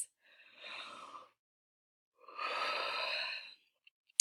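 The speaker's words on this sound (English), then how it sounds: "take a few deep breaths" A class breathes deeply during a meditation exercise: two slow, airy breaths, each about a second long, separated by silence, fairly quiet and close.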